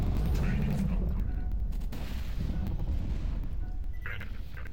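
A massive, nuclear-sized explosion in the video game Borderlands 2 makes a loud, continuous rumbling roar with crackling bursts that fills the whole stretch.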